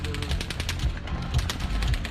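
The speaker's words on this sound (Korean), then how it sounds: "헬기 소리 같은 연발 총성을 들리게 됩니다" Rapid automatic gunfire rattles in fast, continuous bursts, a dense stream of sharp cracks over a rumbling low-end background, heard as a distant or recorded sound at an outdoor concert venue in Las Vegas.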